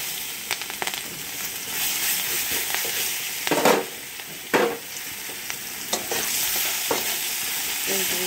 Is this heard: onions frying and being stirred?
yes